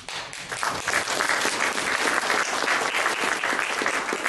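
Audience applause at a 2016 graduation ceremony, a dense, steady wash of many hands clapping that swells quickly and holds at full strength throughout, with no voices.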